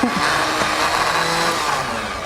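A blender runs loud and steady, whirring continuously as it purees date fudge until smooth, with no talk over it.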